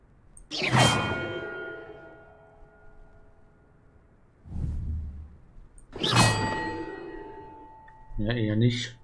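Two separate bell strikes from a glockenspiel puzzle in the game Hogwarts Legacy ring out loudly and decay slowly, with a soft whoosh between them and someone speaking briefly at the end.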